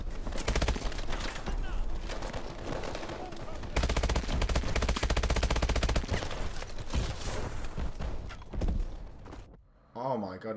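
Enemy drones in the video game Call of Duty: Advanced Warfare firing, a loud, continuous barrage of rapid gunshots that runs nearly the whole stretch. A brief warbling electronic tone comes near the end.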